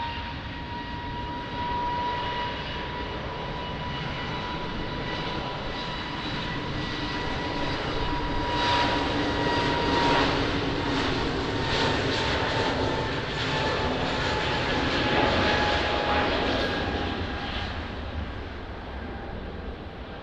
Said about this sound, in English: Wow, another amazing roll and takeoff.